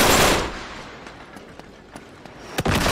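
Enemy gunfire in Uncharted 3: a loud burst of shots at the start fading into a rattling tail, then scattered faint pops and a sharp crack near the end, with a fresh burst closing it.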